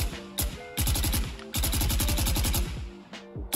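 A gun fires in Valorant, with rapid automatic bursts of loud, close shots, a few single shots, and brief gaps between the volleys.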